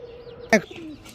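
A single short coo from a male pigeon sounds close by, with a faint low warble before and after it in a quiet setting.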